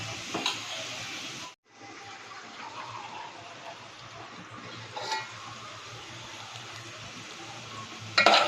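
Snake gourd frying in a pan, a soft steady sizzle with faint stirring scrapes, quiet and close, briefly cut off once before resuming.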